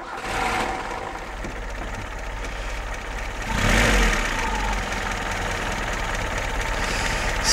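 A slightly cooled VAZ 2101-2107 Lada engine idles with a steady, low rumble that swells briefly as the revs rise, then settles back to an even hum.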